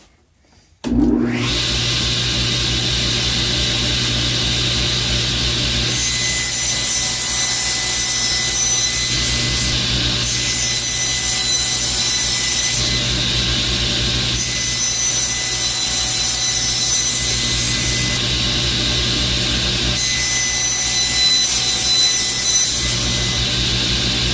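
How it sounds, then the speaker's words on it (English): A table saw starting with a sudden whine, then running steadily and loud while cutting 1-inch wooden blocks, its pitch rising and dropping through several repeated cuts, no talking. "I just set up the table saw to cut right on the end of them"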